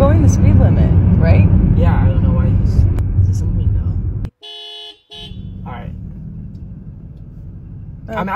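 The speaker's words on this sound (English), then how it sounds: "What is he honking at?" A car horn blares in one steady honk lasting under a second, breaking through loud road rumble and chatter inside a vehicle.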